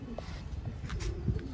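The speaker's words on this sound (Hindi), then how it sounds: "ये हैं जी दोस्तों स्लेटी मगर कबूतर" A slate-grey Sialkoti pigeon coos softly in a couple of short, low calls against quiet background noise.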